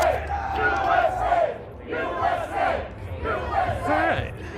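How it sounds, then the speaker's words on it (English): A protest crowd in Phoenix, Arizona cheers and chants in rhythmic waves, loud massed voices rising and falling in repeated bursts from nearby. "What are they cheering about?"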